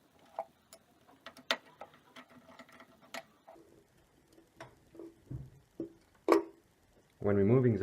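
A tool works loose the transportation bolts of a Hettich 380R centrifuge, giving quiet scattered ticks and clicks at an irregular pace, close by. A short mechanical buzz sounds at the very end.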